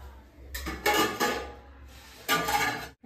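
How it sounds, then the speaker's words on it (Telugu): Chicken dum biryani rice is spooned into a bowl, giving a few soft scrapes and light metallic clinks of a spoon against the vessel in two short bursts separated by quiet. "ఇప్పుడు ఒక గిన్నెలోకి రైస్ని నేను వేసి బిర్యానీని ఒక గిన్నెలోకి వేసి మీకు చూపిస్తాను"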